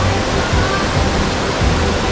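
Taytay Falls in Laguna roars loud and close, a dense, unbroken rush of falling water that fills the scene without a pause.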